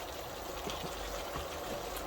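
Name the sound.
pouring a little water into chicken masala pan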